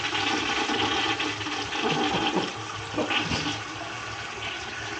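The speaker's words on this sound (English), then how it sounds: "Give it a flush, see what it does." A toilet flushes with a loud, close rush of water that churns for several seconds, then eases into a quieter refilling trickle.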